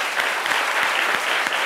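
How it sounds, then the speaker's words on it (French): Studio audience at a TV quiz show gives dense, steady applause, close and loud throughout, with no voices over it. "On l'applaudit quand même."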